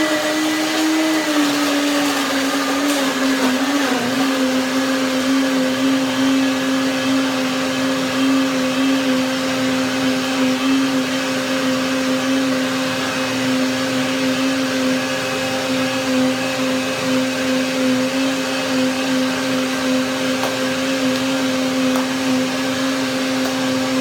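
A loud blender motor runs continuously blending a pear and banana smoothie, its pitch dropping slightly at first and then holding a steady whine.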